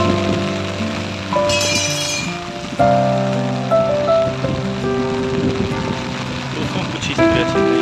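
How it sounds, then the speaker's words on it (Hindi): Heavy monsoon downpour over a village near the India–Nepal border, a dense steady hiss of rain with clinking drops on hard surfaces, loud and continuous throughout, with tonal background sounds and occasional voices mixed in. "काफ़ी तेज बारिश हो रहा है।"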